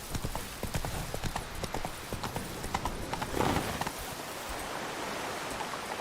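In the Witcher 3 video game a horse gallops with rapid rhythmic hoofbeats over a steady background hiss, slowing to a quieter wash of ambience near the end.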